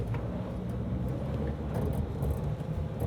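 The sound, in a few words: Ford Ranger PHEV pulling away from a stop uphill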